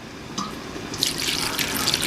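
Water is poured into a pot of Jamaican stew chicken cooking with dumplings, potatoes and pumpkin, a steady splashing fill that builds after a brief pause and runs on continuously, close and fairly loud.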